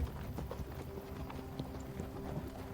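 Hooves clip-clop at a steady walking pace over a busy, low background rumble, moderately close, with a few faint scattered knocks mixed in.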